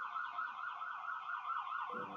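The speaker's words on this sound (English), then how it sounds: "There's a siren going outside." An emergency siren outside, wailing steadily in a fast up-and-down warble at moderate distance, then a low rumble enters just before it ends.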